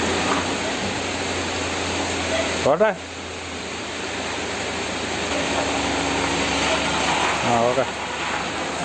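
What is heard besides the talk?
evening rain falling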